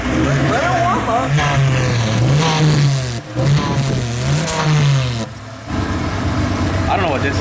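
A Mazda FD RX-7 runs while warming up. The loud, close engine note swings up and down in repeated revving surges with brief dips, and voices can be heard around it.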